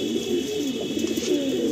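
A pair of pigeons coo together in low, rolling murmurs, close and continuous, with a faint steady high tone humming in the background.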